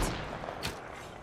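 Distant bursts of gunfire in the battle-royale shooter Apex Legends, a quick crack near the start and another muffled shot a moment later, faint and echoing.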